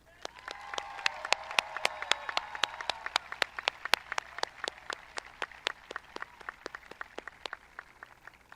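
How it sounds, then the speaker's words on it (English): A high school graduation audience applauds steadily, dense clapping that thins out toward the end into scattered individual claps. "Please join me in giving these students a huge round of applause."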